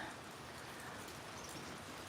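Rain pattering steadily across a backyard on a cold, windy autumn day, a constant diffuse wash of drops with no talking.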